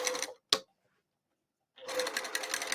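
A sewing machine stitches a bowler bag seam in two steady, close whirring runs broken by a long silent pause and a single sharp click.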